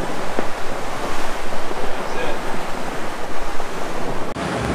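Rough Aegean sea and strong wind heard from a sailboat moving at 8 to 9 knots, with loud continuous rushing water, surging waves and heavy wind buffeting close to the microphone.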